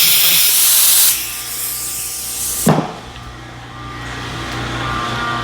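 Fuel nozzle filling the tank of a 2018 GM 5.3 truck, leaking: a loud broadband spraying hiss for about a second, then a quieter steady rushing flow with a brief sharp burst near the three-second mark.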